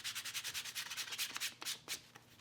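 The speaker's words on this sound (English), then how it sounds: "we're ready to sand and finish the edges. We're going to grab a piece of sandpaper" Leather edges being sanded by hand with a small piece of sandpaper, a quick series of light rhythmic rubbing strokes, close and fairly soft, with no talking.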